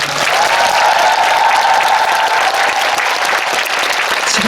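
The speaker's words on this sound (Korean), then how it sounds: "박수만 쳐주세요" An audience applauds loudly and steadily, a dense wash of clapping with no talk over it.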